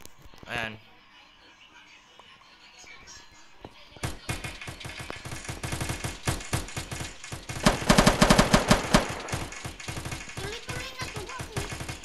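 Rapid machine-gun fire from an RPK in Minecraft, bursting in near and loud after a quiet opening with a brief voice, then continuing in dense rattling volleys that swell louder toward the middle.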